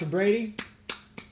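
A microphone gets accidentally punched: three sharp, loud thumps spaced roughly a third of a second apart, right after a man's short spoken question.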